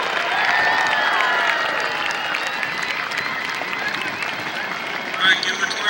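Crowd cheering and clapping at the Torrance Centennial birthday celebration, a steady wash of applause and voices from a large outdoor gathering, with a sharper burst of claps near the end.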